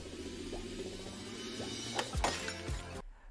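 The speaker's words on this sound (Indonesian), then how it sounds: "Dia membuka tutup botol champagne antik dengan cara yang unik, dan ternyata malah botolnya yang pecah." An antique champagne bottle breaks: a few sharp glassy cracks and crashes toward the end over a low background hum, fairly quiet overall.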